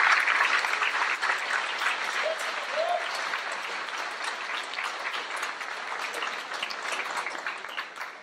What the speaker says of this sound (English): I'd like a round of applause for Miss Hope.